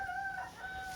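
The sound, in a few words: rooster crowing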